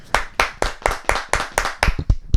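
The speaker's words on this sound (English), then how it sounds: "Got to clap it up" Hands clap a quick steady run of about ten sharp claps, close and loud, with no talk over them.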